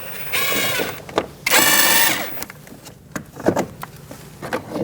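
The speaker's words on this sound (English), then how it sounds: "we're going to remove this bolt here with a T15 Torx bit" Torx T15 bit backing out a bolt on a 2016-2019 Chevrolet Cruze front control arm area, close ratcheting bursts of whirring and clicking, with short gaps between runs.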